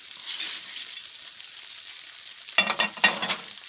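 Water and chopped shallots poured into a hot frying pan set off a sudden loud burst of sizzling after a steady faint frying hiss, crackling in two close surges.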